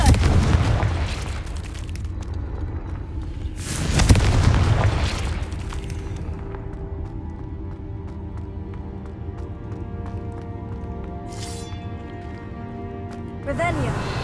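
Blasting spell from Hogwarts Legacy gameplay bursts into a loud boom near the start and another heavy explosion around four seconds, each followed by a decaying rumble. Spoken spell incantations run over the blasts.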